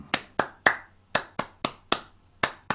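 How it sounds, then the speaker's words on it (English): About ten crisp, close hand claps at an unhurried, slightly uneven pace during a ukulele warm-up, each sharp and distinct with brief room decay, with no talking. "You can even do a bit of clapping."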